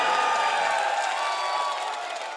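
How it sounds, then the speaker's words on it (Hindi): Sustained applause and cheering from a live audience at a Hindi comic poetry recital, a steady dense clapping wash that fades slightly toward the end. "ताली बजा दो एक बार।"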